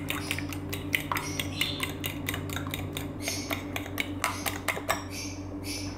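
Eggs with parsley are beaten for an omelette, a utensil clicking and tapping rapidly against the bowl in an uneven rhythm over a steady background hum.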